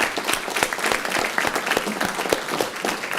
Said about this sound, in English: Another round of applause for our training staff